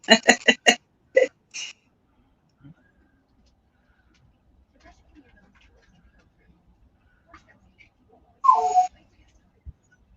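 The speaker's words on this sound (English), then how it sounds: "Oh, Dawn, your bird's whistling back." A bird gives a quick series of sharp, bright chirps at the start, then long quiet with faint sounds and another short call later.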